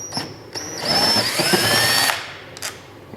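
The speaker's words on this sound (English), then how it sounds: "use a power screwdriver here just to speed this process up" A power screwdriver backing screws out of the air box on a 2015-2017 Yamaha YZF-R1 sportbike, a close, loud whirring burst that rises and cuts off, followed by a brief second spin.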